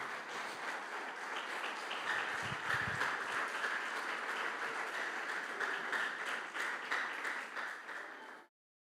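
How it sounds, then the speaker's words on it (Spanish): Sustained applause from a church congregation at a Spanish-language evangelical service, many hands clapping steadily and densely for about eight seconds before stopping abruptly. "Dele un fuerte aplauso a Dios."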